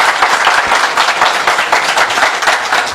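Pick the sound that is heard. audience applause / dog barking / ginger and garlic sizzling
audience applause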